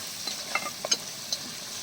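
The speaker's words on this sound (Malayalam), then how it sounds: "ഇത് നന്നായിട്ടൊന്ന് വഴട്ടിയെടുക്കണം. ആ പച്ച മണമൊക്കെ മാറി ചെറുതായിട്ടൊന്ന് മുരിഞ്ഞ് തരണം." Tuna pieces sauté in a pan for tuna pickle, giving a soft steady sizzle broken by a few scattered clinks and scrapes of stirring, with no talking.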